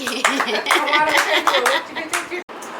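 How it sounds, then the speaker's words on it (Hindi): Children clap together for a classmate who said a tongue twister correctly in a game, a short lively patter of small hands mixed with excited kids' chatter. "पूजा ने ठीक बोला, उसके लिए एक बार तालियां बजाई ये जाए"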